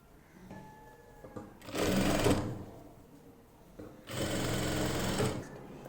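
Sewing machine stitching a half-inch seam on a zippered ladies' handbag made from scrap cloth. Two loud, close bursts of rapid stitching are separated by a quiet pause with faint handling noise.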